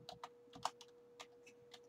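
Light, quick keystrokes on a computer keyboard, about a dozen soft irregular taps close by over a quiet background.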